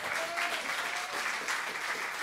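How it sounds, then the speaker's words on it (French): Audience applause follows a stand-up act at a Swiss televised comedy talent competition in 2017: steady, full clapping from a large crowd, continuous throughout with no speech over it. "Tonnerre d'applaudissements"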